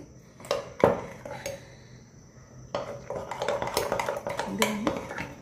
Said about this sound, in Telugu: ఇలా మిక్స్ చేసుకోవడం ఈ షుగర్ మెల్ట్ అయ్యే వరకు తిప్పుకోవాలి.